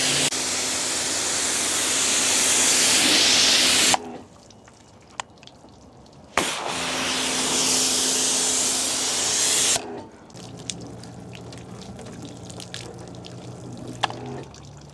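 Pressurised water spray rinses a ceramic-coated vehicle, two loud sustained bursts of hissing spray separated by quieter gaps with drips and small knocks.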